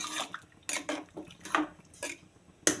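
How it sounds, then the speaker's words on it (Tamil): Grated coconut, coriander and curry leaves stirred into a pot of Tirunelveli idi sambar, a metal spoon scraping and clinking against the vessel in several short, close bursts with brief pauses between. "தேங்காய் மட்டும் இல்லாமல் கொத்தமல்லி, கருவேப்பிலை ஒரு கைப்பிடி சேர்த்து இதை ஒரு வாட்டி நல்லா கலந்து விட்டுறலாம்."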